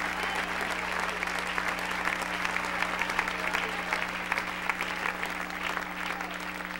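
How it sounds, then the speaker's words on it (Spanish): Church congregation applauding steadily throughout, a dense sustained clatter of many hands over a low hum, with faint voices mixed in. "Dele un aplauso al Rey con todo su corazón."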